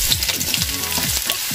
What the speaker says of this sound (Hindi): ऑयल जब गर्म हो जाएगा तो हम इसमें ऐड करेंगे प्याज